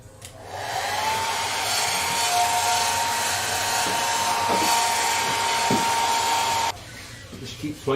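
A heat gun or hair dryer blows hot air over a model Horten Ho aircraft, a loud steady whooshing drone with a faint whine that holds for several seconds, then cuts off abruptly near the end.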